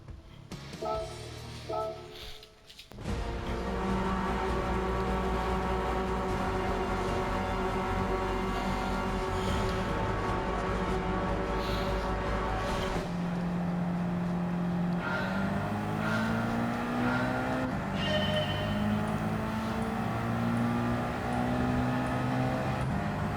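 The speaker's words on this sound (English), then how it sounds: "So let's see what speed we're gonna get with this car." A race car in the Gran Turismo 7 video game revs up and accelerates hard toward top speed, its engine note climbing through gear changes in a loud, sustained roar with tire noise, no talking.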